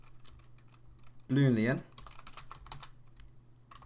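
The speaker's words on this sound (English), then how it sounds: "you want to type in public" Rapid clicking of computer keyboard keys as code is typed, with a person briefly speaking over the tapping partway through.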